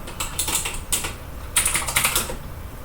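Keyboard keys clatter in quick irregular bursts, separated by brief pauses, typed up close at moderate level with no voices.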